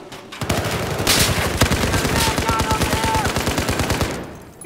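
Sustained machine gun fire in a Battlefield 4 match, a rapid continuous rattle of bursts, loud and close, running for several seconds before stopping.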